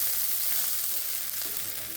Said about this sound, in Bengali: আমি এখন আলু ভাজি করবো আজকে